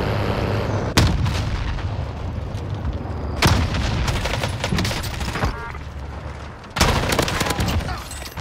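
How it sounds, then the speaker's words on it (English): Heavy gunfire in the video game Warzone, with loud bursts of shots and booming impacts around the 1, 3.5 and 6.8 second marks over a steady roar of battle noise. "Bro, you were shooting at me!"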